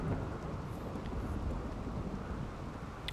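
Steady rain pours in the game RimWorld, a dense, constant wash of noise with a low rumble of thunder beneath it and a few faint higher ticks, continuous and unbroken with no talk.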